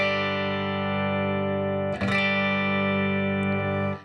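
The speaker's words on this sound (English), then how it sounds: "you'll hear the extreme effect of the" A sustained electric guitar note rings on evenly, heavily squashed by a Barber Electronics Tonepress compression pedal, with a brief pick scrape in the middle before it fades out.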